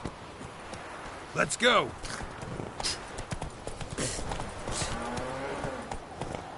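Hooves of Roach, the horse in The Witcher 3 video game, clip-clop at a steady trot in a game soundscape, with a voice shouting briefly over the hoofbeats near the start.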